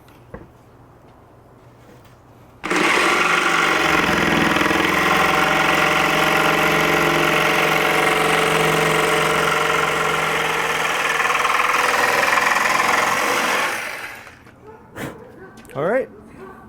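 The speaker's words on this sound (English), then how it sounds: "I decided it's easiest just to use my scroll saw to cut these." A scroll saw cuts arcade cabinet parts with a loud, steady buzzing drone that starts abruptly and runs about eleven seconds before winding down, followed by a few faint knocks.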